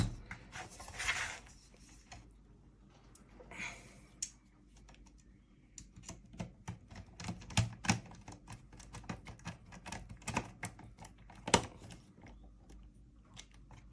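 Screws on a Meanwell power supply fan in an Ender 3 S1 3D printer are tightened by hand, giving quiet, close, irregular clicks and ticks from a small screwdriver.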